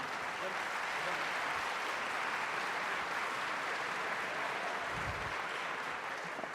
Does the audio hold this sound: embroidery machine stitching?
no